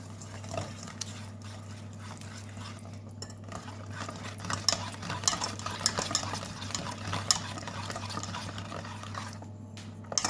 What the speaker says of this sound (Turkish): karıştırmaya başlıyoruz.